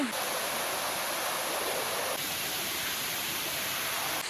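Continuous broadband rushing of a waterfall in Palghar, Maharashtra, during the first monsoon rain, steady and dense with no breaks, filling the whole clip without voices.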